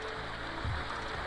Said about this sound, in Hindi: तो ये है पानी का शोर, ऊपर से बहता हुआ झरना नीचे की तरफ,